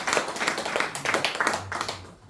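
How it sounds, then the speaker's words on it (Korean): A small audience claps after a research presentation at a Lions academy monthly meeting, a brief patter of scattered hand claps, fairly close and fading out at the end. "이상도 박사님께 다시 한번 큰 박수 좀 부탁드리겠습니다"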